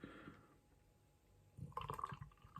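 Bottle of 12% imperial stout poured into a glass, a faint trickle that swells into a short, gurgling flow of liquid at close range, with no talking.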